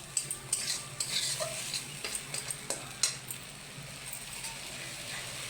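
A ground spice paste with a little cumin sizzles in a pan while a spoon stirs and scrapes it, giving soft crackling and a series of light clinks and scrapes, close and fairly quiet, with no talk.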